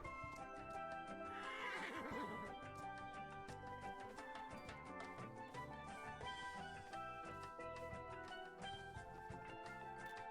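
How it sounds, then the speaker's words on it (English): A horse whinnies near the start in the video game ATLAS, a brief rising neigh heard over busy, continuous game music that fills the whole clip. "Oh look, we found a horse."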